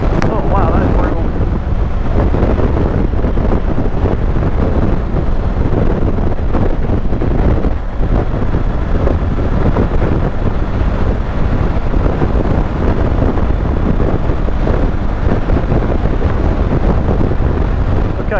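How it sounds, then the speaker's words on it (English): Heavy wind buffeting a rider on a Honda CB500X motorcycle at road speed, a loud, continuous roaring rumble that never lets up, with a voice buried faintly in the noise. "I can feel the wind on my kidneys a little bit."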